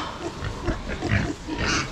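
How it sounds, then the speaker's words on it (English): Pigs grunt in a farmyard, a short run of close, low, rhythmic grunts and snuffles. "they're just untidy little pigs"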